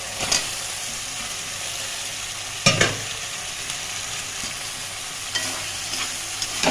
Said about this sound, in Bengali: ভালো করে মশলার সাথে মিশিয়ে নেব।